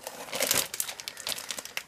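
Sheets of scrapbooking paper from the Oxygène collection are handled up close, giving continuous crisp crinkling and rustling with sharper crackles throughout.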